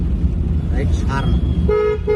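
Two short car horn toots sound near the end over steady engine rumble and a talking voice, from a car during a first-day driving lesson out in city traffic.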